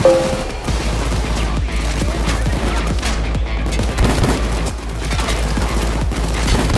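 Rapid, continuous gunfire fills a Payday 2 heist shootout, with dense overlapping bursts and shots throughout, loud and close, under a constant low background rumble.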